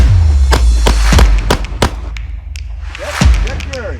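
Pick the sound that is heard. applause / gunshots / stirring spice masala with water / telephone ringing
gunshots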